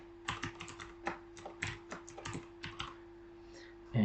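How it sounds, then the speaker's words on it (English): Rapid bursts of keystrokes on a computer keyboard while a Wi-Fi password is typed during setup of a Bitaxe Gamma crypto miner, irregular clicks close by with short pauses between groups, no talk. "We'll type in our Wi-Fi SID"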